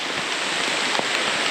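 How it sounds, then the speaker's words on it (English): Rain starting to fall on a syntropic farm in the wet season, a dense, steady hiss of drops on leaves and ground, close and continuous, with no voices. "here comes the rain"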